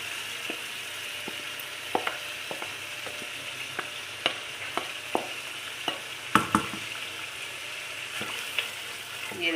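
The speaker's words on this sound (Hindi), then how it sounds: "अब हम इसमें डालेंगे ये उबली हुई दाल माश।" Boiled urad dal (mash dal) goes into spices frying over medium heat, a steady close sizzle broken by repeated clicks and scrapes of a spoon stirring in the pan, with no talk.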